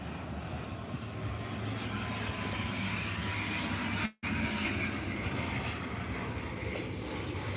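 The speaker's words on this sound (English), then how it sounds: "So ATR 72600 from Dublin, as it just crosses that path at that 747" An ATR 72-600 turboprop airliner from Dublin passes at Birmingham airport, a steady, moderately distant engine drone that holds throughout with one very brief dropout partway through.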